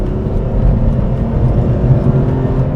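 A BMW E46 M3 on Öhlins suspension drives fast over a rough, crashy road, giving a loud, steady low engine drone and road rumble with no talk.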